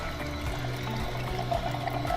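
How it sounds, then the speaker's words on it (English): Water poured through a juicer to rinse it out between batches, a steady close splashing and gurgling flow that runs continuously for the whole moment. "If things get stuck, you can run some water through it."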